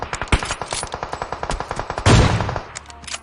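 Rapid automatic gunfire from the video game PUBG Mobile rattles out as a tight string of about two dozen evenly spaced shots, then a heavier, louder burst near the end.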